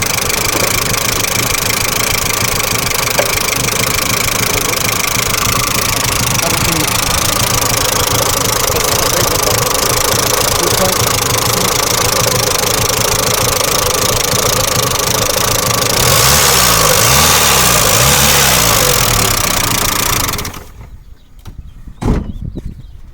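A car engine with a carburetor and a DIY gasoline enhancement setup idles steadily and loudly up close for about twenty seconds, rises briefly near the end, then cuts off. A few faint clicks follow.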